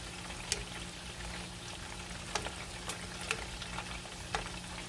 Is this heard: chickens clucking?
no